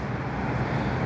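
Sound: traffic on a busy city street

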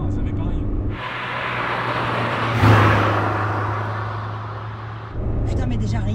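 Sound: Honda Civic ED7 engine revving through 2nd and 3rd gears

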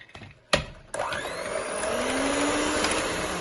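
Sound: electric mixer whisking eggs and sugar

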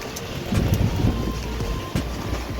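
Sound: heavy rain

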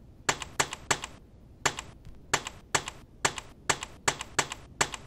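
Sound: computer keyboard typing in a typing test

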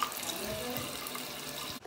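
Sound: water running from a tap

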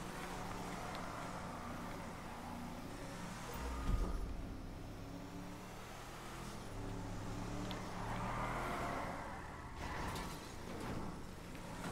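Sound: Dodge Ram truck engine drifting, from video game GTA 5

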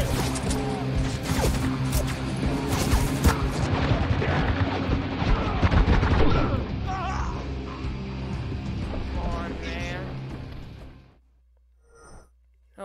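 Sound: gunfire in the video game Spec Ops

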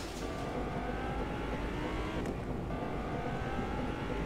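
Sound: driving a car in the video game Fortnite

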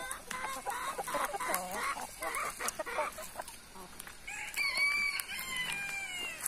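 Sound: chickens clucking on a farm

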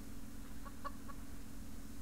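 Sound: chickens clucking in the video game Subsistence

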